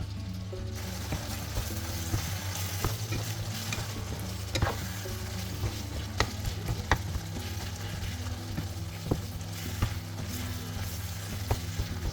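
Ground beef seasoned with black pepper and cayenne is stirred in a frying pan, giving a close, continuous sizzle with repeated scraping and clicking of the utensil throughout.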